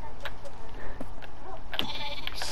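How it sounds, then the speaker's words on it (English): A baby sheep in Minecraft bleats softly under a talking voice and steady game background sound, its thin, high calls coming in short bursts. "a baby sheep"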